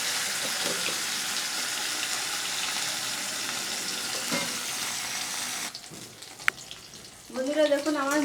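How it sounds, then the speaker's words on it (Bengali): Fish frying in hot oil in a karahi wok: a dense, even sizzling hiss that runs for several seconds, close and steady, then drops away; a voice is heard briefly near the end. "আমার লাল লাল করে ভেজে নেওয়া হয়ে গেছে মাছ"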